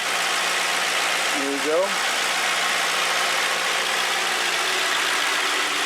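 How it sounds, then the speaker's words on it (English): A taxi car's engine idles with a steady, even rumble close by, while someone speaks briefly over it early on. "Check out the engine."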